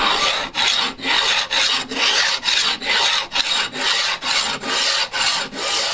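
A file levels the frets on a guitar neck in rhythmic back-and-forth strokes, a loud close rasping scrape that repeats about a dozen times with short gaps between passes and no voices.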